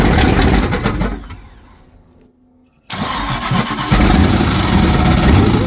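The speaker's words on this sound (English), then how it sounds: "About to turn the key, see what happens." A V8-swapped Chevrolet S10 with a 5-speed cranks loudly, falls quiet for a moment, then fires up and revs up, all close by and with no talk.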